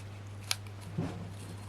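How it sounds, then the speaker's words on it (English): Scissors snipping paper card beneath a craft topper, a faint sharp snip followed by a soft cut, quiet over a low hum. "So I'm going to bring in my scissors, and I'm just carefully just going to try and undercut"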